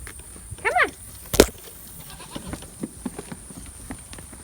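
Goats on a homestead give a short bleat, fairly close, followed by a sharp knock and scattered faint rustles and footsteps in a quiet outdoor setting.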